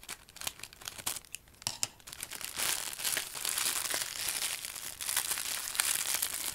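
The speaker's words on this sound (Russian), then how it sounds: "Пакет довольно рвется хорошо" A plastic AliExpress parcel bag is torn open by hand, giving a run of loud crinkling and ripping bursts that grow denser and continuous, with no talking.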